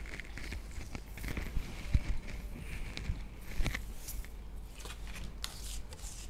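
Tarot cards being shuffled by hand, a soft continuous riffling and sliding with a few light taps, close and quiet, with no talking.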